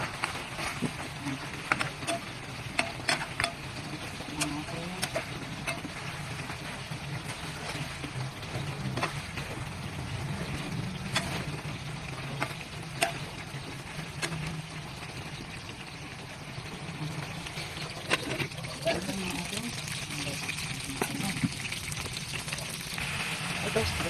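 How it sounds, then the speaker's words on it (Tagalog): Chicken sizzles and crackles steadily in a hot pan with bay leaf, a continuous frying hiss with occasional stirring scrapes, while a person talks over it. "Ayan, tuloy pa rin natin itong sangkot siya bago ilagay yung ibang mga halo."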